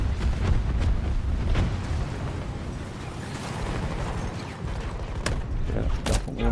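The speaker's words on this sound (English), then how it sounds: "Reloading, watch my back!" Weapon reload in Battlefield 2042 on PS5: mechanical clicks and clacks over a dense, loud rumble of battle noise with distant booms, continuous through the stretch.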